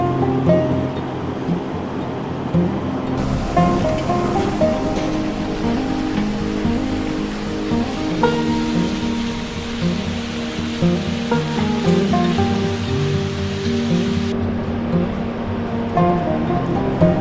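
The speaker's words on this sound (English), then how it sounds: "And that is the Gokyo River." The Gokyo River in Nepal flows in a steady, full rush of water, loud and continuous throughout, with no voices.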